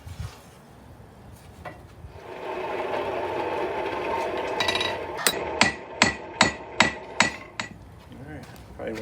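A blacksmith hammers a hot steel taper on the face of an anvil: a run of about seven sharp, ringing metallic strikes in an even rhythm over a low background roar, close and loud.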